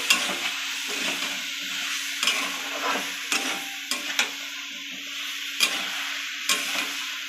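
Chilli powder, turmeric and other ground spices are stirred in a frying pan for pumpkin curry. A steady close sizzle runs under scattered sharp clicks of a utensil against the pan.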